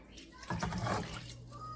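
Water poured from a cup into a pot while making ginger lemon tea, a quiet splashing gush lasting about a second, with faint room sounds before and after.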